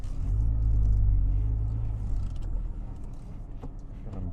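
A 2006 Porsche Boxster Roadster reverses with a low engine rumble that swells briefly and then settles into a quieter idle-like drone, fairly faint and close.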